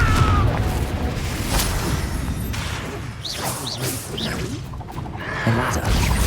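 Confringo fire spell in Hogwarts Legacy on Xbox Series X, booming blasts and whooshes of a combat scene, with rumbling impacts, swishing spell sounds and sharp crashes layered together at a loud level.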